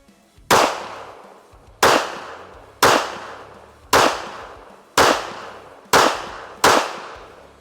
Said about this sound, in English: On the range now with the Walther WMP, let's get those first rounds in and see how she shoots.